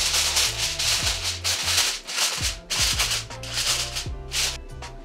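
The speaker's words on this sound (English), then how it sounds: "Then you want to take your aluminum foil." Aluminum foil crinkles and rubs steadily as it is pressed over a cheese-topped lasagna dish, a close, continuous rustling with a few sharper crackles.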